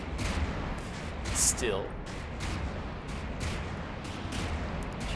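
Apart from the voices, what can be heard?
gunfire from a Steinburg in a video game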